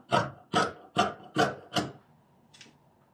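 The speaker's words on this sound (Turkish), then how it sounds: "Etek ucundan da kesiyorum." Scissors snipping through fabric along a skirt hem, five crisp evenly spaced cuts close up, then a faint sixth snip after a pause.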